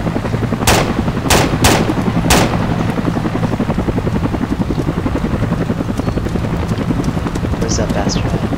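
Gunfire rattles in from the north during an Arma II firefight: several sharp cracks in the first few seconds over a constant rumbling engine drone, with a couple of fainter shots late on.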